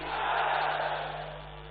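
A large crowd at a political rally in Azamgarh for the Home Minister shouts a loud sustained chant in reply, a broad roaring wash of voices lasting nearly two seconds before easing slightly.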